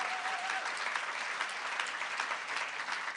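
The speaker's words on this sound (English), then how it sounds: "Wow, round of applause." Audience clapping at an awards ceremony, a dense, sustained round of applause from a large crowd, steady in level from start to finish with no voices over it.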